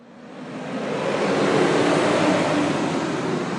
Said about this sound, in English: that's the sound of the 424 bus just leaving the bus station here in